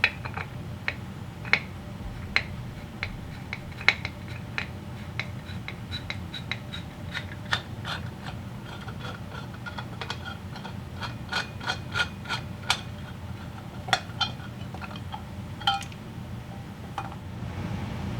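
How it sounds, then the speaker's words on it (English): Metallic clicks and small tool rattles of work on a vintage Harley-Davidson Shovelhead carburetor, unbolting it and backing out the float bowl screws, irregular close taps and ratcheting over a constant low hum. "I've got the carburetor unbolted here and most of the screws out of the float bowl"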